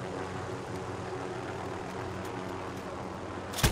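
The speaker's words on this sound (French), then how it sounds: "regarde, il y a un hélico là" Helicopter engine and rotor drone in Call of Duty: Warzone (Modern Warfare, 2019) battle royale on PS4, a steady broadband rumble throughout, ending in a sudden loud burst.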